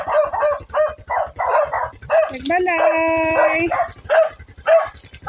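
Several close dog barks mixed with a longer yelping, howl-like cry, while a person speaks over them.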